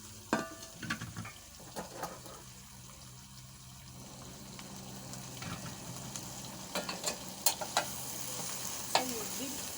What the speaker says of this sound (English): You have to deep fry first